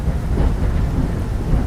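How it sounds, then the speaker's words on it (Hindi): Heavy rain pouring down in a forest, a dense, loud, continuous roar with a deep low rumble, heard alone without any voices. "बारिश इतनी तेज थी कि पूरे जंगल में बारिश का पानी बहने लगा।"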